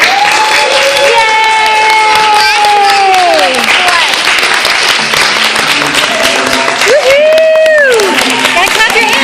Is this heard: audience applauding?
yes